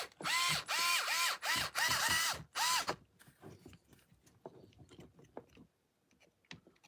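A power driver tightens a bolt with flat washers on a 3D printed cantilever kit for a TRX4, giving loud whirring, ratcheting bursts in quick succession, then quieter scattered clicks and handling noises.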